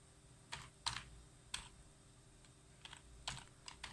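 A computer keyboard clicks in sparse, uneven keystrokes, close and quiet, ending with a firmer key press, with no voices present.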